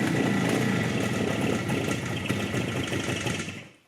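A vintage Suzuki T500 Titan two-stroke motorcycle, its spark plug wires swapped during a kick-start attempt, gives a loud, close, sputtering engine burst. The burst runs steadily and then dies away at the end.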